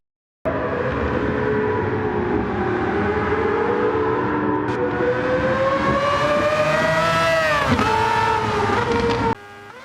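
A Mazda 787B race car in Gran Turismo 7 at Circuit de Barcelona-Catalunya screams along for about nine seconds, its loud engine note rising and falling through gear changes before cutting off abruptly.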